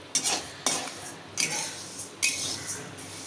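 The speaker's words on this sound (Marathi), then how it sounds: "आता याला मी भाजून घेत आहे. कमी गॅसवर ह्याला छान भाजून घ्यायचं आहे" Rice dry-roasting in a pan over a low gas flame, a spoon scraping and stirring the grains in short, repeated scratchy strokes roughly every half second to second, close and moderately quiet.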